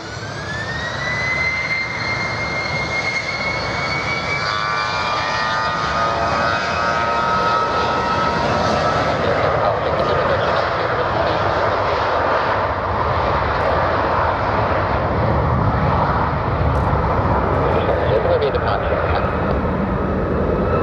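A jet airliner takes off from runway 33 at Birmingham Airport, its engines spooling up with a rising whine into a loud, steady roar that stays close and sustained as it accelerates down the runway.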